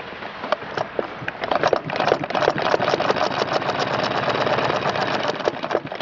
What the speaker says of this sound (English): that thread slips around that entire bobbin case every stitch that this machine does